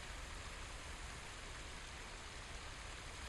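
Steady broadband rushing of a waterfall in Ghost of Tsushima, a continuous close wash of falling water with no break and no talk.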